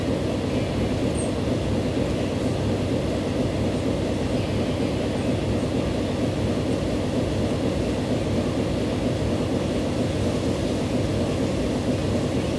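Train wheels in the railway game Transport Fever roll along the track in a steady, loud rumble with a constant low hum that lasts the whole time, and no talking.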